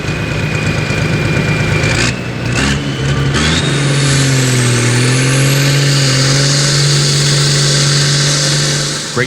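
Tractor engines working while stuck in mud, a loud, close, continuous engine roar with steady droning tones that shift in pitch as the revs rise and fall.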